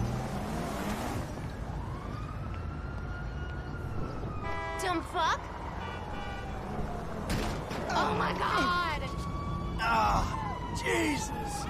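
A fire engine siren wails in the GTA 5 video game, rising and falling in long sweeps over a low rumble, with sharp bursts of other game noises and crashes cutting in.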